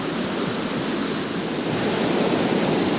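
River rapids near a campground, a dense, steady rush of water, loud and unbroken, with no voices over it.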